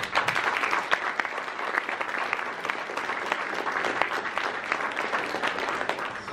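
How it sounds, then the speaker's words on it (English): Steady, dense applause from an audience at a Cork Liftfest 2017 evening talk on cooking, many hands clapping evenly and close throughout with no speech over it. "to give him a round of applause"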